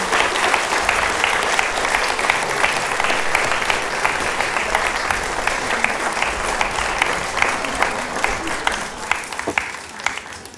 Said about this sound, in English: Can I have one warm applause, please?